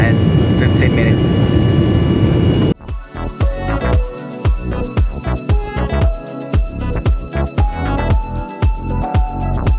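Inside an airplane cabin during descent toward Cancun, a dense, steady engine roar fills the first few seconds, then cuts off abruptly and gives way to a different, choppier sound.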